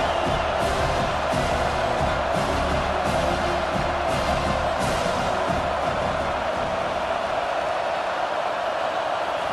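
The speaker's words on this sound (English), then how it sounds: "Here comes this home crowd as the defense tries to get off the field on 3rd down" A large home crowd roars at a Penn State football game against UCLA, a loud sustained wall of cheering and whoops from the stands as the defense faces third down, with brief louder swells early on.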